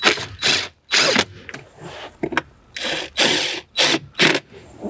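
Power screw gun driving 7 millimeter screws into a Jeep Wrangler JK interior panel, a rapid series of short, close ratcheting whirs in uneven bursts with brief gaps between them.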